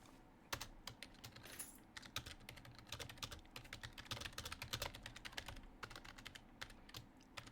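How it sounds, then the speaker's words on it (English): Steady typing on a computer keyboard, a dense run of quick clicky keystrokes going on for several seconds, fairly close and alone with no voices. "I'm just gonna be typing some stuff."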